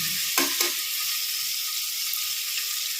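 Onions sautéing in a pan, with a loud, steady, bright hiss of frying and a couple of quick stirring scrapes near the start, no voices.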